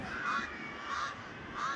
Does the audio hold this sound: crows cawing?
yes